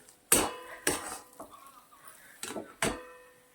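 Cheese vada pav filling being turned over in a pan on a gas stove, five separate clanks and scrapes of a spoon against the metal pan at irregular intervals over a quiet background.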